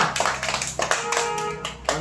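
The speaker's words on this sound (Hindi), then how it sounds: "ताली बजाओ सारे बच्चे जल्दी जल्दी।" Children clap their hands in quick, uneven bursts, close and fairly loud, with sharp individual claps and a few voices calling out over them.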